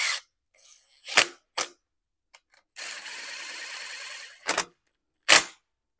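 A hand socket wrench running in cylinder bolts on a Craftsman mower's Kohler Command engine: short sharp ratcheting bursts separated by silence, plus one longer steady rasping stretch, close and clear.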